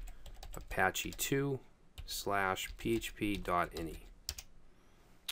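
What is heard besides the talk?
typing a sudo nano command on a computer keyboard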